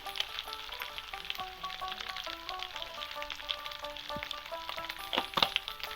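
Bottle gourd and prawns frying with spices in a pan as they are stirred, a steady close sizzle with scattered crackles and a few louder scrapes near the end.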